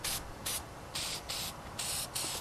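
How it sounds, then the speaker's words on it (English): Cheap gold spray paint hisses from an aerosol can onto plastic model parts in six short, evenly spaced bursts over a constant low background hiss, nearby and without speech. "And the gold cheap spray paint"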